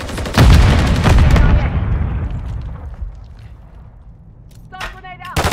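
A grenade blast and heavy gunfire from Call of Duty MW3 erupt loudly at the start, then fade into a long, rumbling decay, with sharper shots and effects returning near the end and game voices calling out over the action.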